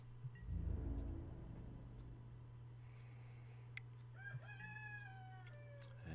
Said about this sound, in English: And there you hear the roosters outside.